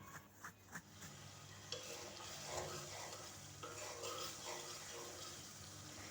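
Spice paste of coriander powder and ginger-garlic paste being stir-fried in a pan for a dry fish and potato curry, with a steady close sizzle and occasional soft scrapes and stirring knocks throughout.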